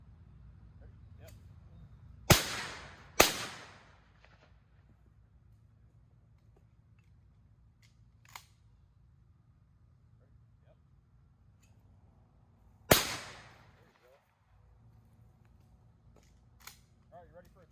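Shotgun blasts from a Franchi Affinity 3 during clay and teal shooting outdoors, two sharp reports about a second apart and a third several seconds later, with faint talk and quieter clicks between.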